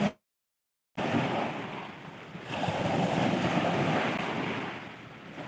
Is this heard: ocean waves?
yes